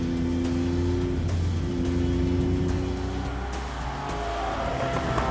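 A Jaguar XJ220 on Bridgestone tyres drives hard around a track, its engine droning loudly and continuously from inside the car while the front tyres are pushed to their limit, with brief faint squeals.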